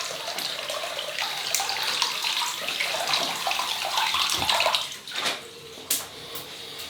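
Tap water runs steadily into a sink to wet an Alpha Stalwart G-7 synthetic shaving brush, a close, continuous splashing flow that breaks into a few brief gurgles and splashes near the end.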